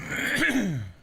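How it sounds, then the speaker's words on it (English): A single drawn-out throat clearing, harsh and rasping, close to the microphone, rising then trailing off over about a second. "Damn, I cannot clear my throat."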